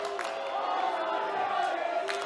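A wrestling crowd at an Abitibi show yells and chants steadily, a dense roar of voices with a few sharp whoops rising over the din.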